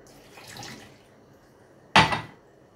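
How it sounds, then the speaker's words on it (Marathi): Milk poured into a mixer jar for a date milkshake, heard as one short, close splashing pour burst after a softer liquid trickle, with no voices. "आता आपण ह्याच्यात आहे ना दूध टाकूया।"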